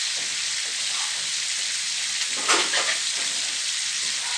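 Pork cracklings fry in fresh oil with a dense, continuous crackling sizzle throughout, close and fairly loud, with a few brief louder pops near the middle.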